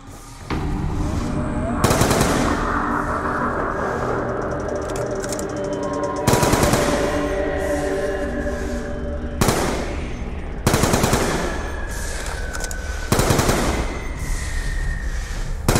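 Sustained automatic gunfire in Black Ops 2 zombies gameplay, loud and continuous rapid bursts with sharp louder cracks recurring every couple of seconds over game music.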